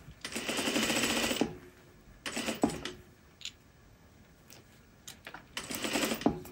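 A sewing machine stitching pants at 2.5 stitch length runs in three rapid buzzing bursts, separated by quiet pauses with faint clicks and handling.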